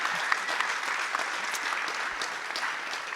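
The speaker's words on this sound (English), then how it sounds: "I will ask a big applause to you." A conference audience applauds steadily, a close, even wash of many hands clapping with a few sharper individual claps standing out.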